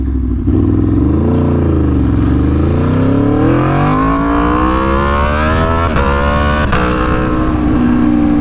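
An Aprilia Tuono V4 1100 Factory motorcycle engine roars loud and close during a wheelie, its pitch dipping briefly and then climbing steadily as the rider accelerates, with no voices.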